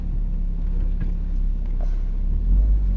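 Car driving along a road, a steady low engine rumble and road noise close up that holds evenly throughout, with a slight swell near the end.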